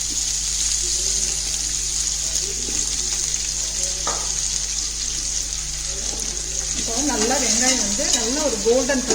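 Sliced onions fry with salt in a pan at home, a steady loud sizzle running throughout while a utensil stirs and scrapes intermittently, with brief scraping bursts near the end.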